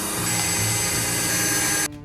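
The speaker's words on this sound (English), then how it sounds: "It's time for some pilot holes." A power drill bores pilot holes into a wooden camper van subfloor, a loud steady whine that runs nearly two seconds before stopping abruptly.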